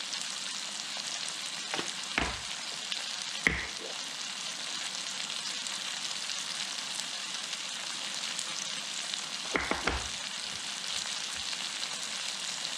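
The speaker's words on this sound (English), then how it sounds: "we're going to cook these for about 5 to 7 minutes and get them all nice and golden brown" Food seasoned with cayenne, salt and pepper frying in a pan at a steady, moderate hiss, with a few brief knocks from utensils scattered through and no talking.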